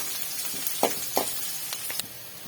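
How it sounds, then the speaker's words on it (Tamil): Onions sautéing in a pan for a mixed-vegetable kuzhambu, a soft continuous sizzle broken by a few brief louder crackles and stirring scrapes, with no talk. "வெங்காயம் கொஞ்சம் வதங்கட்டும்"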